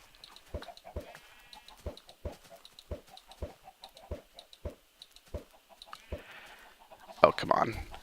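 Minecraft sheep bleat repeatedly in short, evenly spaced calls, a dozen or so clipped bleats in a quiet pen, ending with a brief louder burst of mixed noise.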